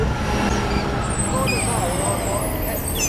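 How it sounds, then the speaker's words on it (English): A loud garbage truck rumbles past on a roadway, a steady heavy engine drone with traffic noise under voices talking nearby. "Bloody noisy garbage truck."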